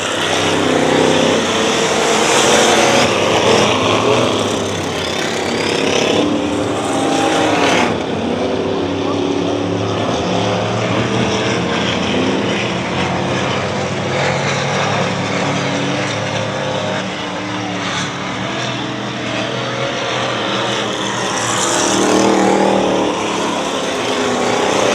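A dirt-track race car with a big 8-cylinder engine at Dirtona Raceway, a loud sustained roar that rises and falls for the whole stretch, with a voice talking over it.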